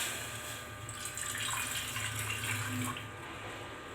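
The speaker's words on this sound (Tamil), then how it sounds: "1 டம்ளர் தண்ணி ஊற்றி சூடு பண்ணிக்கலாம்." Water pours steadily from a tumbler into a lead cooking vessel for heating, a soft continuous splashing stream that swells for a couple of seconds before easing off.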